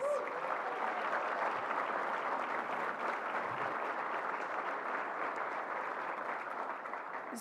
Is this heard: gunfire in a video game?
no